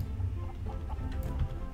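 A frozen chicken creature in the video game Trolliverse clucks in a few short, quick bursts over a dense, steady game background rumble.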